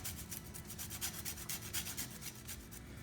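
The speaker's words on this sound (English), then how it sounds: "I just grated all the rind of the lime" Lime rind rubbed across a grater for zest, a steady close-up scraping with quick repeated rasping strokes and no talking.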